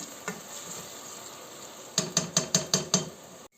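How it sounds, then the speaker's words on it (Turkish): Onions sauté quietly in a pan with a low, soft sizzle, then a quick run of six sharp metallic scrapes and clinks from a utensil stirring against the pan near the end; no talking. "Şimdi soğanımız pembeleşinceye kadar soğanımızı böyle kavuruyorum."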